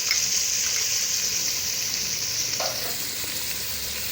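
Garlic paste frying in oil for a mutton stew, a steady, close sizzle that holds evenly throughout with a few faint stirring clicks and no speech.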